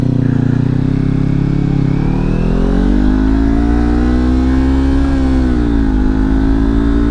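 A Kawasaki Ninja 400 motorcycle with a slipping clutch, ridden in 20 mph-plus winds, revs loudly close to the rider, its engine pitch dipping and then climbing steadily under constant wind rush.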